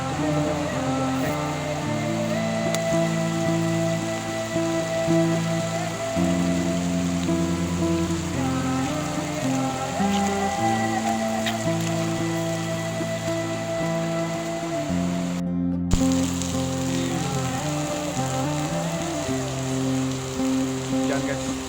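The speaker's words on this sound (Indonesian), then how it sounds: "Hujan guys." Heavy rain falls during fishing-net casting. A continuous hiss of downpour spreads across the whole stretch, partly masked by steady tonal sounds layered on top.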